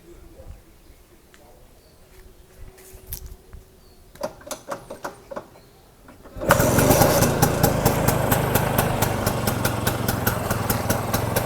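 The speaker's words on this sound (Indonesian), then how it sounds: "Kita cobain Vespa yang satu ini, kita hidupin dulu." Several quiet kicks and sputters, then a 1965 Vespa VBB scooter with original points ignition catches and settles into a loud, steady two-stroke idle with a rapid popping beat.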